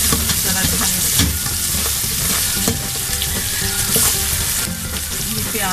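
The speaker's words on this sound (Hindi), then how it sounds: "ज़ीरा, प्याज, नमक, तेज़पात सीधा फ्राई होकर ज़्यादा अच्छा टेस्ट आएगा।" Cumin, onion, salt and bay leaf sizzle and crackle steadily in a hot pan, with a spoon scraping and stirring through the frying at close range.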